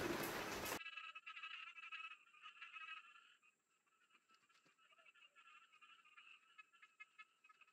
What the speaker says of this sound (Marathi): बेडकांचा आवाज जास्त येत असेल